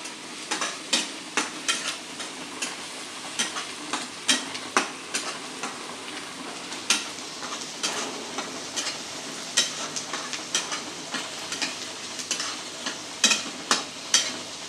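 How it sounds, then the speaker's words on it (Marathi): Green chilli, onion and garlic frying in a pan, with a soft continuous sizzle broken by repeated sharp scraping and clinking strokes of a spoon stirring against the pan, close and fairly quiet, no talking. "असं छान फ्राय करून घ्यायचं हिरवी मिरची पण टाकल्याच्या नंतर कांदा हिरवी मिरची लसूण"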